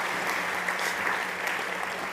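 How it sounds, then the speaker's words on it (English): Audience applause for a speaker on a startup summit stage, steady continuous clapping from a crowd, even and sustained for the whole moment. "please, big applause to Andrea."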